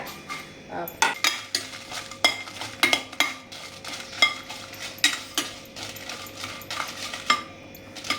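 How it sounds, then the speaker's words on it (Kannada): Dry spices being roasted without oil in a pan for Mangalorean chicken uppu kori, with repeated clinks and scrapes of a spoon stirring against the metal pan and a faint dry rustle, close and moderately loud. "ನಾನೀಗ ಇದನ್ನ ಹಾಕಿ ಫ್ರೈ ಮಾಡ್ತೆ."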